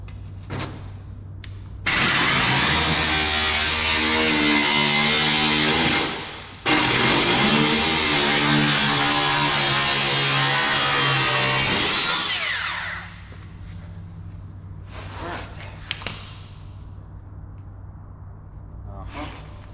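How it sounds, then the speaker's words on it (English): Angle grinder cutting into metal during a Cateye upgrade, a loud steady high-pitched whine running for about ten seconds with one brief pause, then winding down beneath a low engine-like hum and some clatter. "you can grab your grinder"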